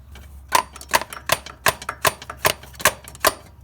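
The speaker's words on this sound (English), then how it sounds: "We're going to give that a little tap with a hammer, give it a little jolt to get it off." A hammer taps metal on a Toyota Camry 2.2L 5S-FE engine part during oil pump seal replacement, about ten sharp close strikes at a fairly even pace, with quieter clinks between them.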